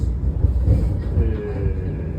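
Steady low rumble of a train rolling along rails in Italy, with faint squealing tones from the wheels and carriage, continuous and close, on a lightly occupied Sunday train.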